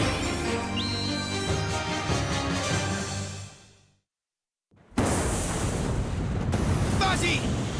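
Beyblade Pegasus unleashing its Stellar Explosion special attack in an anime battle: a loud, sustained roaring blast that cuts out to near silence before a second surging roar bursts back in.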